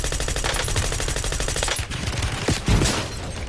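Rapid automatic gunfire from a Call of Duty Warzone match, loud and close, with a dense rattling burst that breaks off briefly and then resumes with heavier single shots.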